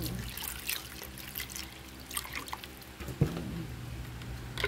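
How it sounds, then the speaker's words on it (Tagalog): Water is poured into a blender for dragon fruit juice, a light trickling and dripping stream with a few small splashes, close by and fairly quiet, with no talking. "Lagyan natin siya ng tubig."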